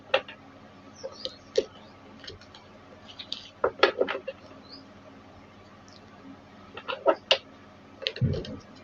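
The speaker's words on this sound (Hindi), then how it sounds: "तो जब तक मैं शफल कर रही हूँ" A deck of tarot cards is shuffled close by in a quiet room, making scattered soft riffles and light clicks in irregular bursts.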